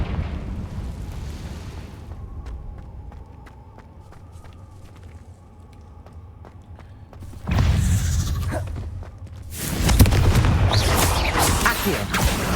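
Confringo blasting spells go off in the Hogwarts Legacy video game, with a low rumbling stretch and sharp clicks, then two loud booming bursts of blast noise near the end.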